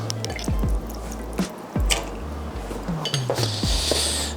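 Water being stirred into a vegan batter in a bowl: wet squishing and dripping sounds with light clinks of a spoon against the dish, irregular and close, with no talking.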